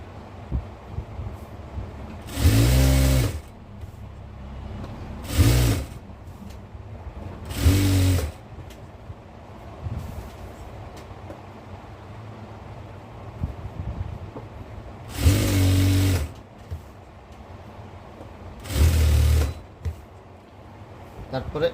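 Short bursts of a sewing machine stitching a petticoat, five separate runs of a few seconds each spread between stretches of spoken instruction, the machine loud and close.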